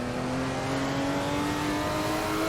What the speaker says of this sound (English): There's the turbo coming in.